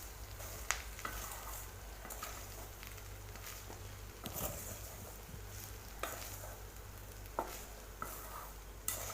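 Potato rice is stirred in a pan, making faint scraping and soft sizzling with occasional louder clicks of the spoon against the metal.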